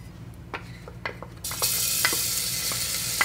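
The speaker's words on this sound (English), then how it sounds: "We're going to saute the salt, pepper, and red pepper flakes and the garlic for about 1 minute." A few light taps and stirs give way to a sudden steady sizzle as garlic, salt, pepper and red pepper flakes hit hot butter on the Instant Pot's saute setting. The frying stays loud and close, with occasional clicks of a utensil.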